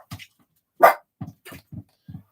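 A household dog barks once loudly and close by, a single sharp bark followed by a few softer short yips and whimpers spread through the moment.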